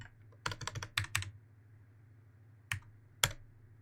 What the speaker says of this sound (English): Ah, typing's hard.